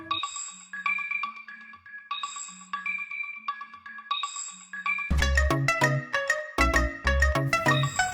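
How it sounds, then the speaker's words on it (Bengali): A mobile phone rings with a bright electronic melody, repeating phrases of tones that then switch to a louder, fuller musical ringtone with bass and beats. "এই ফোন বাজতেছে, ধরো না কেন?"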